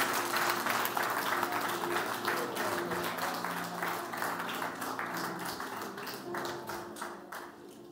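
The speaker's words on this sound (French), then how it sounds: "Est-ce qu'on donne encore une acclamation à Jésus?" A church congregation applauds in praise, a sustained, fairly quiet wash of many hands clapping with distinct rhythmic claps showing through, slowly fading toward the end.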